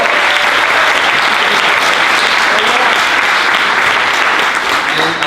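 Loud, dense applause fills the hall at a film festival awards event in a town hall theater, steady and close throughout with no break.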